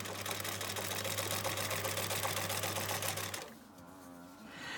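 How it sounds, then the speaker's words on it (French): A sewing machine stitches fabric for a pencil pouch in a fast, steady mechanical whir with a low motor hum, then stops, leaving quiet room tone. "je commence donc à piquer. Je fais un aller et un retour"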